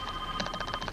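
A telephone ringing with a rapid electronic trill, a steady pulsing bell-like tone over a constant background hum, close and moderately loud, in a 1993 television talk show studio setting.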